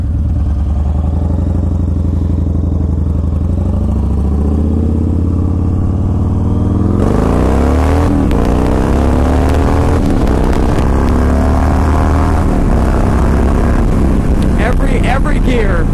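Yamaha Raider muscle motorcycle accelerating hard through the gears, a loud close rumbling exhaust that swells with each rising pull and drops at gear changes, with wind roar and a rider talking over it.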